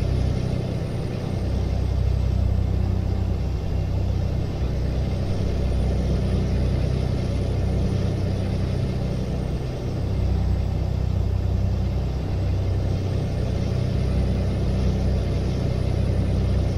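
Heavy truck in Euro Truck Simulator 2 rolling over rumble strip lane markings, a steady loud low drone and rumble that holds for the whole stretch with no talk over it.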